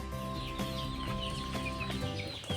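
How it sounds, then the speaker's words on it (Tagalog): A flock of chickens, mostly young gamecock stags, clucking steadily nearby while being fed, with soft scratching and pecking sounds mixed in. "nagpatuka na ako ng mga manok"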